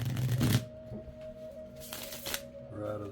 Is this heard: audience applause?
no